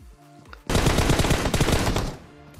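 Automatic gunfire in the mobile shooter PUBG Mobile: a loud, sustained burst of rapid shots lasting under two seconds, with quieter game ambience before and after.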